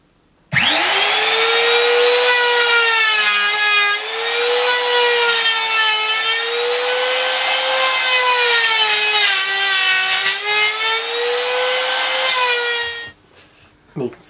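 A loud, continuous high-pitched whine of a power tool routing out the wooden tote of a jointer plane, wavering slightly in pitch, running steadily for about twelve seconds before stopping.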